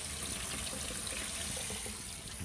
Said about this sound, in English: just going to rinse off the potatoes